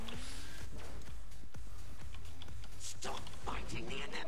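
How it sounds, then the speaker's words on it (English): Rapid, frantic clicks and taps on a computer keyboard and mouse during a Saints Row: The Third gaming session, dense and irregular, close up with no speech over them. "You can hear me frantically clicking."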